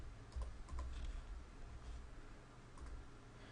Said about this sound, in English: So I start typing blue